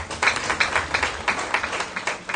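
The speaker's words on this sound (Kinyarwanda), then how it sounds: "muyihe amashyi menshi cyane." A short burst of scattered hand clapping, fairly light and uneven, coming from a small group rather than a big crowd.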